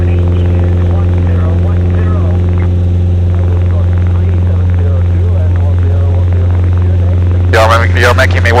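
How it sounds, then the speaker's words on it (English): Inside the cockpit of a Mooney M20J-201 in level flight, the propeller and engine drone loudly and continuously, a deep steady hum with strong harmonics, as people talk briefly over it. "Have a listen to your propeller"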